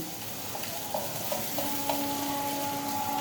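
Soaked, drained flattened rice (chira) sizzles gently in ghee in a pan, with a quiet, steady frying hiss broken by a few light stirring clinks and scrapes, with no talking.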